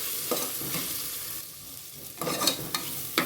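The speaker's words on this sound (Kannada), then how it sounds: "ಟೊಮೆಟೊನ ಆಯಿತು ಹೆಸರು ಬೇಳೆ ಹಾಕ್ಕೋತೀನಿ ಫ್ರೈ ಮಾಡ್ಕೊಳ್ಳೋಣ" Tomato and moong dal frying in a pan, stirred with a spoon: a crackling sizzle under clattering scrapes that grow louder and sharper toward the end, close and without voices.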